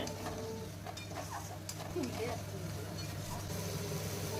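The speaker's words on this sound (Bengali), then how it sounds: "এবার মাটন কিমাটা দিয়ে দিচ্ছি এবার ভালো করে কষিয়ে নিতে হবে" Mutton mince being stir-fried in a pan for ghugni with green chilli gives a steady sizzle with stirring and scraping throughout, over a low continuous hum.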